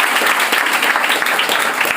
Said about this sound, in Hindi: पहले चीज तो इनके लिए जोरदार ताली होनी चाहिए।